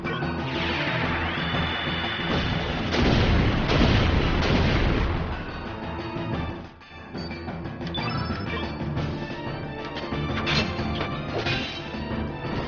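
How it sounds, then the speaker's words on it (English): Magma Bomb fire spell in Chrono Cross, a sustained game-effect rumble with heavy booming crashes peaking mid-way, then a dip and further bursts of crackling impact amid game music. "Let's use magma bomb."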